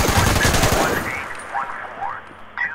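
Gunfire in Fallout 76: a loud burst of rapid shots up front that quickly dies away, followed by quieter scattered in-game sounds.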